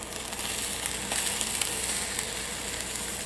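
An egg omelette sizzles steadily in a frying pan, a soft, continuous crackling hiss heard close up with no talking.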